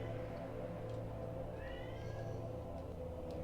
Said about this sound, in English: I hope you can hear my cat Gur in the background.